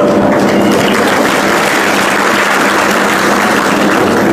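Dense, continuous clapping from a large audience at a felicitation event, loud and steady from start to finish with no pauses.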